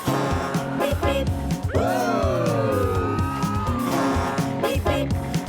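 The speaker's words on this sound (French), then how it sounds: "les sirènes, elles font comment?" A cartoon siren in a children's animated show: a wailing, sweeping tone rises and falls over bouncy background music, holding for a couple of seconds before fading back into the tune.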